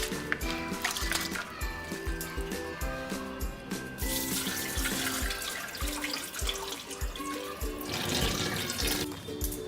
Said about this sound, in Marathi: आता आपण आज ते परत धुवून त्याच्यामध्ये पाणी भरून ठेवणार आहोत